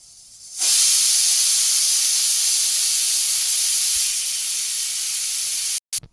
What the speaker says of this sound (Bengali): প্রেসার কুকারের সিটি ভয় করে